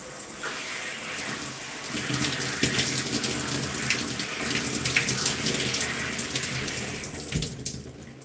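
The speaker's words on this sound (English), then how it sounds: "let me rinse my hands off first" Tap water runs steadily into a sink as hands are rinsed under it, making a continuous close splashing gush with small shifts in its flow. It tapers off at the end.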